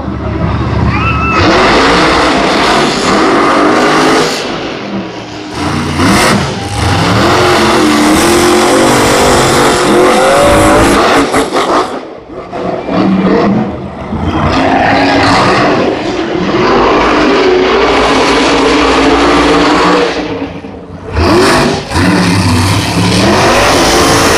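Monster Jam monster trucks roar and rev loudly at Gillette Stadium in Foxboro, Massachusetts, engines surging and dropping through repeated bursts of acceleration with brief lulls, filling the big stadium throughout.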